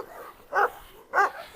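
A Cane Corso barking, two short sharp barks spaced about half a second apart, close and moderately loud over a quiet background.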